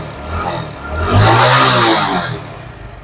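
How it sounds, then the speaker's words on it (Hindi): A 2015 Honda Pridor motorcycle engine running close by, a low steady idle that swells into a brief rev and then settles again, with no one talking. "बाकी इंजन का साउंड वगैरह आप सुन लें"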